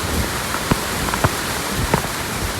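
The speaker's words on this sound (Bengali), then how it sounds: "এখন বৃষ্টি, প্রচুর বৃষ্টি।" Heavy rain pours in Mirpur, Dhaka, a dense, steady wash of hiss that fills everything, with a few sharp drips and taps standing out against the constant downpour.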